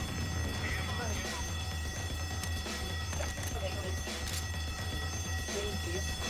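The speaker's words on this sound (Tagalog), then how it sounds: "Layo naman ng alarm na yun." An electronic alarm rings steadily in Left 4 Dead 2 on the Tour of Terror custom map, running continuously under game noise while players talk over it.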